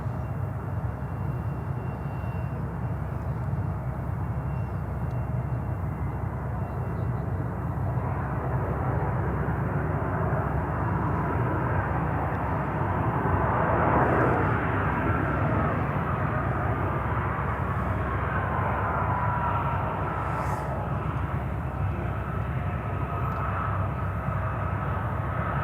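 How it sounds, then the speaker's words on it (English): A CRJ 900 LR regional jet lands at Charlotte airport, producing a steady, fairly distant engine drone with a faint whine rising and falling midway, with no one talking. "Another CRJ 900 LR coming in from Dayton."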